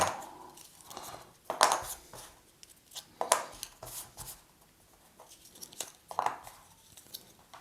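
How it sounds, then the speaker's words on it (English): Board game cards being shuffled at a table, soft papery riffles and taps in several separate bursts, quiet and close, with no talking. "Shuffle, shuffle, shuffle,"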